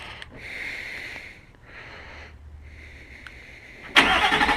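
A 2016 Nissan Titan XD SL 4x4 pickup starting by remote start: a whirring starter crank with pauses, then a sudden loud catch as the engine fires and roars to life nearby.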